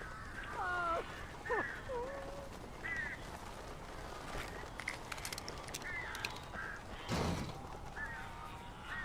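Birds caw in Alan Wake Remastered: scattered harsh calls stand out over a hissy, rustling background, a few separate cries spread across the clip, moderately near, with a sharper burst of noise about two-thirds of the way through.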